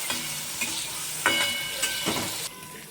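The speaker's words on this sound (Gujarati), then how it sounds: "હવે આપણે ધીમે ધીમે હલાવતા જાશું એને હું ગોલ્ડન બ્રાઉન સુધી હલાવી લઈશ" Paneer cubes being stirred in a kadai over slow-to-medium heat as they fry golden brown, a steady sizzle broken by several scraping stirs of the spatula, close and fairly loud, with no voices.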